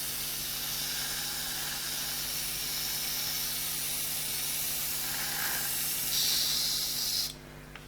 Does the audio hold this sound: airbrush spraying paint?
yes